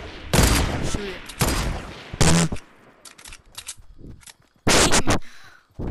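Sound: gunshots in Fortnite video game

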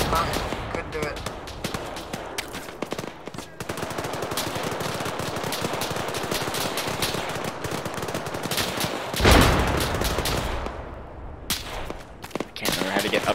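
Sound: gunfire in the video game Arma 3

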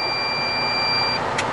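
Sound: snowplow truck beeping

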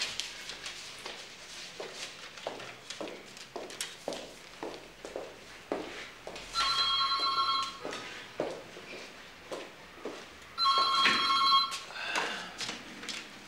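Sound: telephone ringing

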